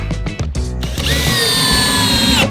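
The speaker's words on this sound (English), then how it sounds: "Put a couple screws in it." A power drill drives screws into an angled scrap-wood wedge, first a few short stuttering bursts, then a long, loud, close whine as the screw runs in.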